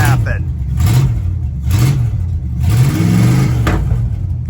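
Revving 318 V8 in a 1977 Dodge D100 pickup shifted into reverse, a loud, steady mid-pitched engine drone that swells in repeated rising surges, with a voice talking over it.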